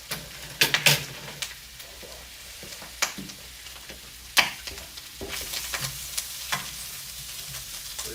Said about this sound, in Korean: 냄비를 쓰기 전에 여기다 볶아서 해주도록 하겠습니다